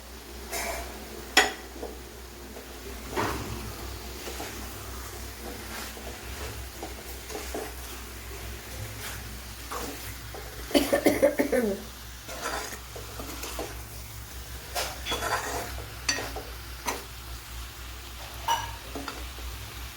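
Chicken pieces tipped into a pan of cooked-down masala, with a steady low sizzle, scraping stirs and clinks of a spoon against the pan, and a brief louder burst of frying partway through.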